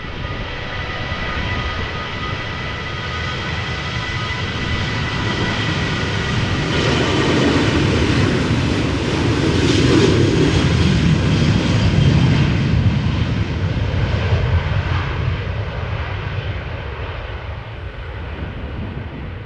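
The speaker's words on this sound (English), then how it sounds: "this is KLM flight 1143, Boeing 737-800 going to Oslo" A KLM Boeing 737-800 jet airliner at Amsterdam Schiphol roars steadily as it passes, its engine noise swelling to a loud peak midway and then slowly easing off, with no voices.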